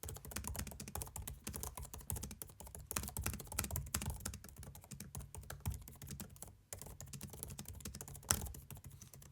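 Steady, rapid typing on an M3 MacBook Air keyboard, soft muted clicks in an uneven rhythm with brief pauses, close up and with no voices.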